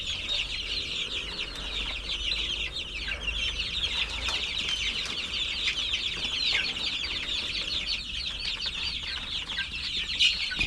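Many chickens cluck and murmur continuously nearby, a busy flock chatter with occasional louder calls over a low background rumble.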